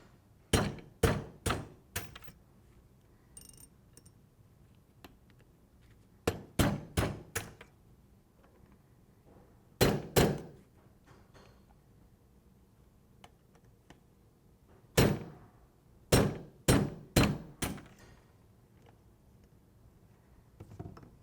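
Retaining pins are knocked out of the drive rollers and ratchet on an FSK belt skiver, heard as sharp metallic taps in close bursts of three or four strikes separated by quiet pauses.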